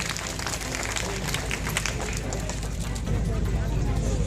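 Crowd at a Shiv Sena political rally in Satara applauds loudly and steadily throughout, a dense wash of clapping mixed with cheering and crowd babble.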